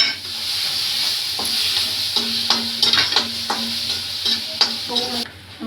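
Turmeric and asafoetida frying in hot oil for vada pav, a steady close sizzle broken by repeated scraping strokes of a spoon stirring in the pan, with no talking.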